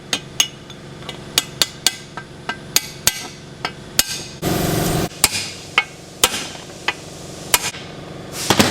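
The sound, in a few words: tapping bearings into a Cummins transfer case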